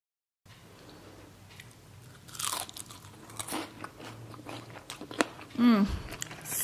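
Crisp crunching bites into an egg tart's pastry, a few sharp crackles followed by chewing, close to the microphone, with a brief voice near the end.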